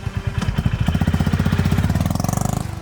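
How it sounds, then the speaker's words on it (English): A Honda H'Ness CB350 motorcycle's single-cylinder engine thumps through its exhaust in a fast, steady rhythmic pulse, loud and slightly raspy, close by with no talk. "listen to that exhaust note. It's a nice sounding thump, slightly raspy and loud."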